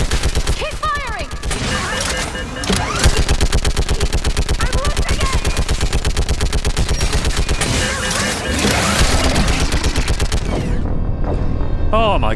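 Mass Effect 3 gunfire, a loud, unbroken stream of rapid automatic shots during a fight against husks, with a few heavier bursts layered in and a brief voice early on.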